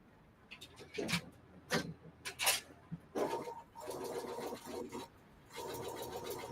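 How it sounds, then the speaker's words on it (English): A sewing machine stitches a quilt block seam in short bursts, starting and stopping, with a steady mechanical run near the end, close and moderately loud and mixed with faint handling sounds. "so you only sew to the end of the line?"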